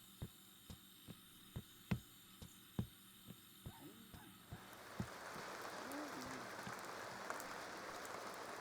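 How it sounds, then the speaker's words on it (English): Rain in The Sims 2 game begins as a soft, steady hiss that builds and holds over a low background hum, following a run of faint regular clicks. "So I'm about to put her washing out to dry, but it's raining."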